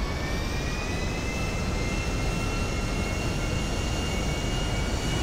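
A steady, loud jet airplane engine roars in the video game GTA 5, a broad continuous rumble with a faint high whine and no change in level.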